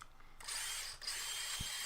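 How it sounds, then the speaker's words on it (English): A power drill boring a clearance hole through wood, a steady close whirring grind under load with a brief dip mid-way, heard alone. "And so I'm just drilling a clearance hole"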